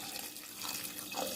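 Water being poured into a pressure cooker holding goat meat for a chana dal gosht, a steady close splashing rush that runs without a break.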